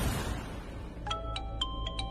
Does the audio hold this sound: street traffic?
no